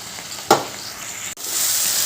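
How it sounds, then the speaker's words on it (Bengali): Spice paste fries in a pan with tangra fish, a steady hissing sizzle with a short sharp clatter near the start and a brief break before the frying resumes, slightly louder. "এবার এটা ভালো করে মশলাটা কষিয়ে নেবো"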